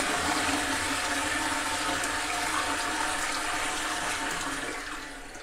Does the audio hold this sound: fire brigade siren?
no